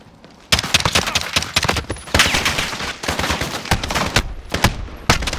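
Rapid bursts of gunfire from Call of Duty Mobile, loud and close, firing in repeated volleys with short gaps between them.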